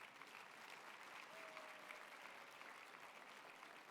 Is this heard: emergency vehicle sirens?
no